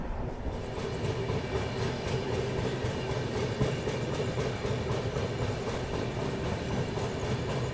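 A Sampark Kranti Express train races at about 130 km/h through a station without stopping. It makes a loud, steady rumble and roar, with faint rhythmic wheel clatter throughout and no voices.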